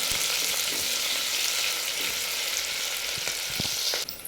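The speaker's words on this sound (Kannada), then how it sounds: "ಉಳ್ಳಾಗಡ್ಡಿ ಹಾಕಿದ ಮೇಲೆ ಚಲೋ ಹೊತ್ನಾಗ ಫ್ರೈ ಆಡಂದ್ರಿ" Onions fry in a pan with a steady, dense, close sizzle that stays even throughout and ends with a brief scrape at the finish, with no voices.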